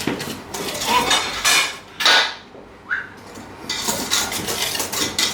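Melted butter and chocolate whisked in a bowl, heard as a run of close metallic clinks and scrapes of whisk against the bowl in bursts with brief pauses, fairly loud and with no voices.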